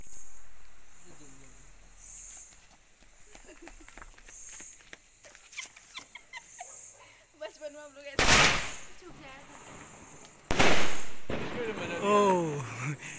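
Diwali firecrackers and sky shot fireworks set off outdoors: crackling and small pops give way to two loud, close bangs with ringing tails, while people talk throughout.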